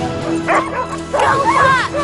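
A sled dog gives close, loud yips and whining barks in short bursts, with a strained, whimpering tone rising and falling between them.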